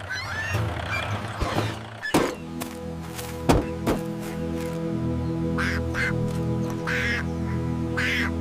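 A duck on a farm quacks several times at moderate loudness over a steady droning hum, with a few sharp thunks in between.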